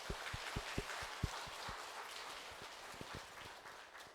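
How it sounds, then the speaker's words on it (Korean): A few scattered, sparse claps sound in a quiet Catholic church during a Holy Spirit seminar. The claps are faint and irregular, thinning out over a few seconds with no one speaking. "이렇게 은혜로운 잔치에 우리를 초대해 주신 하나님 아버지께 뜨거운 감사 박수"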